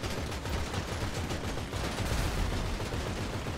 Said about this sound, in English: Stop shooting our own teammate, you idiot!